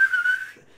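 A single shrill, steady whistled tone lasting about half a second, loud and close, then cutting off into quiet, heard in a tabletop role-playing game session.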